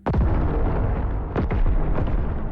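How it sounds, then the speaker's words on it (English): Explosion blasts from the opening of The Last Spell game boom in quick succession, loud and heavy, each with a rolling rumble, and no talking. "thundering blasts heard every hour."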